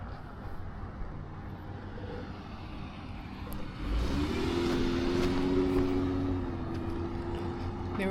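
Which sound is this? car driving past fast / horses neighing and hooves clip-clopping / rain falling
car driving past fast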